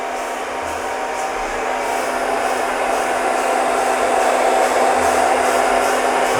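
A hair dryer blows continuously at close range while a brush works through short hair, making a steady, loud whirring roar with a constant tone and no pauses or voices.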